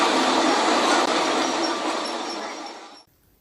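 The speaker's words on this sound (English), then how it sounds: "the train arrives at Mallaig." A Black 5 steam train arriving at Mallaig: a loud, steady broadband rush of rolling rail noise that gradually eases, then cuts off abruptly.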